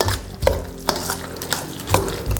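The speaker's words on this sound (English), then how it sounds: "the cheese, the cheddar cheese, and the cream. And mix it up nicely" Cheddar cheese and cream being mixed, with repeated spoon scrapes and soft clinks against the bowl or pan in an irregular stirring rhythm, close and moderate in level.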